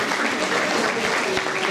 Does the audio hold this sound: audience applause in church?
yes